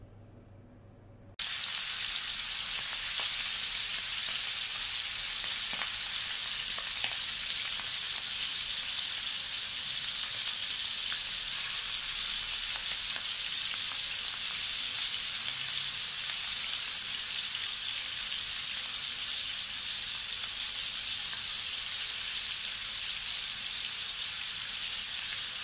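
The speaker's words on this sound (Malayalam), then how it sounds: "ഓയിലൊന്ന് ചൂടായി വരുമ്പോൾ നമുക്ക് ചെമ്മീനൊക്കെ ഒന്ന് ഫ്രൈ ചെയ്തെടുക്കാം." Prawns dropped into hot oil in a pan, a sudden burst into loud, steady, close sizzling and crackling that continues unbroken for the rest of the stretch after a quiet opening moment.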